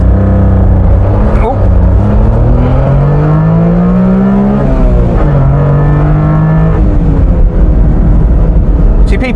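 A 1992 Honda Beat's small engine revs hard and climbs in pitch as VTEC engages, with rising and falling sweeps of acceleration, loud and close from inside the car, with a voice speaking over it.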